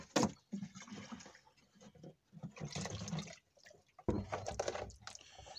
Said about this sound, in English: we'll get some water going